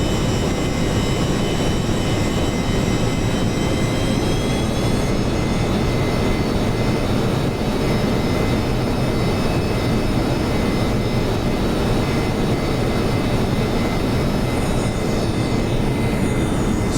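B-1A bomber jet engines drone as the aircraft taxis in a flight simulator game, a loud steady roar with a high whine running unbroken throughout, no speech.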